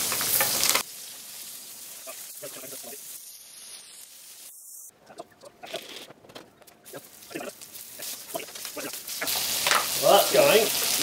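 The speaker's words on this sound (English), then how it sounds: "I'm going to chuck on the only thing that makes cheeseburger better, bacon." Bacon fries in a pan with a continuous crackling sizzle, moderately loud and close, growing busier toward the end, with no one speaking.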